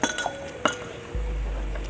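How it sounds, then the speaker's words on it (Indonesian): Ice cubes clink against glass as they are stirred into a syrup drink, a few light chinks scattered over faint background noise, followed by a steady low rumble. "kita campur es batu biar lebih"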